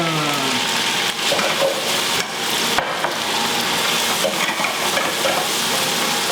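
Chorizo sizzles and crackles steadily in a hot pan, a dense close frying hiss that holds at an even loudness with faint stirring clatters throughout.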